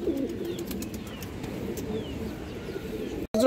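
Several pigeons coo in a steady, overlapping low murmur, with faint chirps above, and the sound cuts out briefly near the end.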